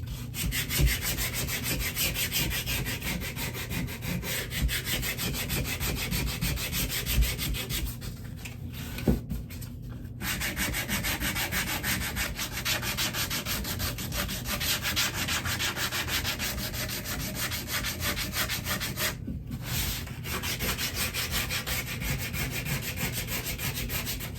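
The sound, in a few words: hand sanding wood with sandpaper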